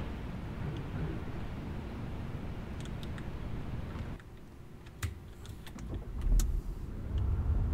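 A vehicle in the Tourist Bus Simulator video game drives with a steady low engine and road rumble, joined by scattered clicks and taps near the middle and a louder swell toward the end.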